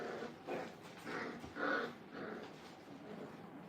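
Brittany puppies at a training kennel growling in short, soft bursts, several low rumbling growls overlapping in a loose rhythm, close but fairly quiet, with no talk.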